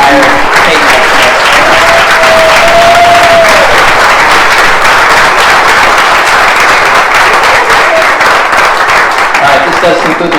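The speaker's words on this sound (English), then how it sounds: "One more round of applause for now Lieutenant Colonel retired Peyton Smith." A retirement ceremony audience applauds loudly and steadily, with a cheering voice rising briefly near the start and dense clapping continuing throughout.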